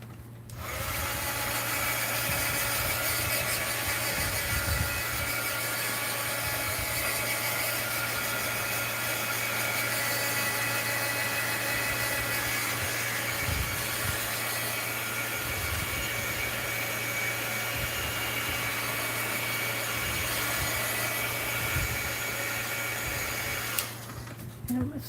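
A hair dryer blows steadily on a mixed-media art journal page, a loud continuous whir with a low hum that runs almost the whole time before switching off near the end, with no talk over it.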